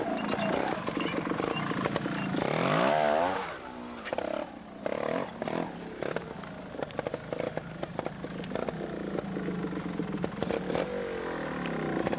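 A trials motorcycle picks its way over big rocks at the Observed Trials World Championship in Globe, Arizona, its engine blipping and revving in short bursts with clattering knocks, moderately distant and uneven throughout.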